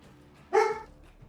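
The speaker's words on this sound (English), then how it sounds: "Dog's upset at something." A dog lets out a single sharp, fairly loud bark over a quiet background.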